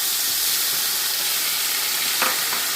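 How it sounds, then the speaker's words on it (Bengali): Spice masala frying in oil in a wok with whole garam masala and dried red chillies for a paneer curry, a loud, steady, dense sizzling hiss with a couple of brief clinks near the end, no talking. "দিয়ে একটু কষে নেবো মশলাটাকে"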